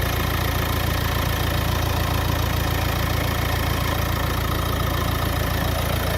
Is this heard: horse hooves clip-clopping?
no